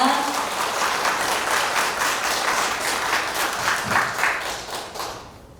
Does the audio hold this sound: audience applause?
yes